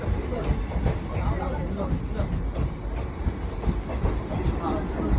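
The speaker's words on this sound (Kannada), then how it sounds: "ಸ್ವಚ್ಛ ಭಾರತದ ಟ್ರೈನ್" A train rolls along the rails with a steady rumbling, rattling clatter that stays loud and close throughout, under a background murmur of voices.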